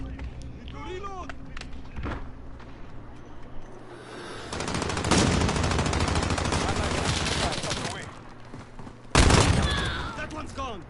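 Gunfire crackles in a PS4 shooter game: scattered single shots, then sustained bursts of rapid automatic fire that swell loud and die back, alongside faint voices and game sounds.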